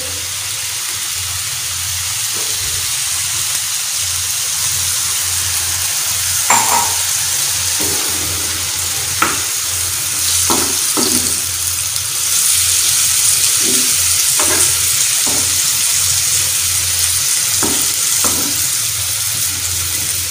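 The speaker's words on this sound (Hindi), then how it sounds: "इसको दम पे पकाएंगे और इसमें बिल्कुल थोड़ा सा पानी शामिल करेंगे" Spicy tawa keema cooks in a pan with a little water added, giving a steady close sizzle and bubbling frying hiss with occasional soft stirring clinks over about twenty seconds.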